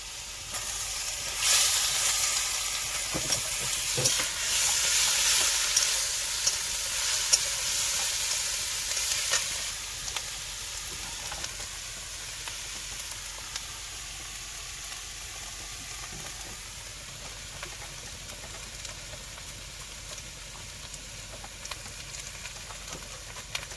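Garlic dropped into a hot frying pan sizzles with a loud bright hiss that swells in the first ten seconds, then settles into steady frying crackle and stirring, with no talking.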